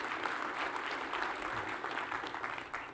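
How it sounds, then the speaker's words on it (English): A conference audience at an Apple developer event claps steadily for a few seconds, a distant, dense wash of applause. "I think I've got more claps than hisses now."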